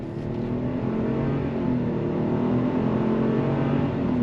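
The 1.3-liter turbo engine of a 2024 Buick Encore GX accelerates, heard from inside the cabin as a loud, steady engine drone that keeps building, with no one talking.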